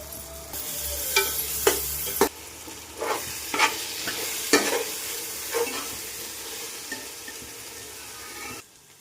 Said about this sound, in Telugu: అల్లం వెల్లుల్లి పేస్ట్ పచ్చి వాసన పోయేదాకా ఇలా ఫ్రై చేసుకోవాలి.